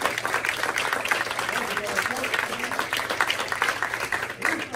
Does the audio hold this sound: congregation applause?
yes